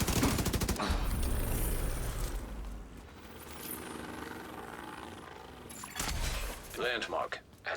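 Video game gunfire crackles in dense, sustained bursts beneath ongoing talk, fading in the middle and then flaring again toward the end.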